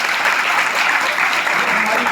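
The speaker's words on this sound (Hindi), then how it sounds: "एक बार जोरदार किसके लिए ताली बजाना है?" Loud, steady applause from an audience at a Hindi lecture on youth, clapping for the Indian Army; a dense, continuous wash of hands with no voices over it.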